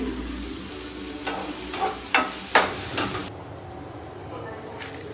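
Eggs cracked into a spiced masala with turmeric fry in a pan, giving a steady sizzle broken by a few sharper bursts and scraping stirs up close.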